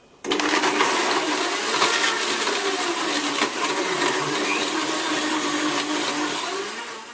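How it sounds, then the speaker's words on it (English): A blender on medium speed crushes ice into a smoothie with lemon rind, a loud steady whirring grind that starts abruptly and runs continuously for about seven seconds. "Blend this on medium for 30 seconds"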